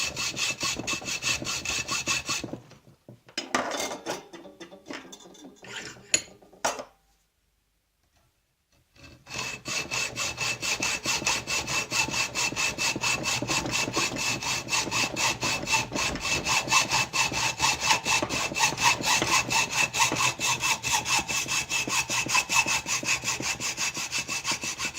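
Aluminum part from a Saeco DeLonghi steam boiler being sawn by hand, steady rapid back-and-forth rasping strokes close up, broken by a brief pause and a few seconds of silence before continuous sawing resumes.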